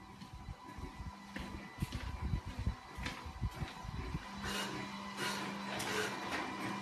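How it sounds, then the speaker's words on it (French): A photo minilab printer runs steadily, giving a faint mechanical hum with repeated soft clicks and rustles as the prints feed through, and no voices. "l'imprimante elle est déjà en train d'imprimer"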